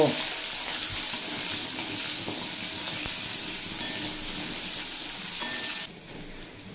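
Potatoes and carrots fry in hot oil in a pan, a steady close sizzle with occasional stirring scrapes that continues evenly, then drops abruptly quieter near the end.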